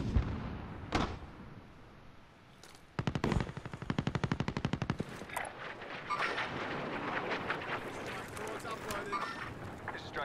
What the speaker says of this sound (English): We're getting shot at from behind us.